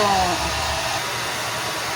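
An electric blower dries a pet dog, its loud, steady airflow roar running close and constant, with a brief drop in pitch as it starts.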